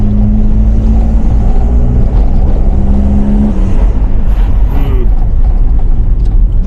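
A car with a glazed clutch drives steadily in fourth gear, its engine a loud, even low drone with road rumble, and the pitch shifts slightly partway through.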